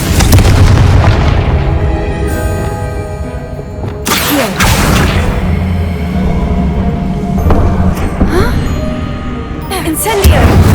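A Confringo spell blast in the video game Hogwarts Legacy, loud booming explosive bursts over rumbling game sound and music, with a few sharp impacts spread across the stretch.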